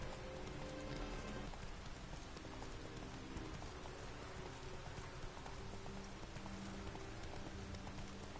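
Horse hooves galloping in The Witcher 3 video game, a steady rapid clatter running throughout under a dense wash of rain-like game ambience and music, with no talking.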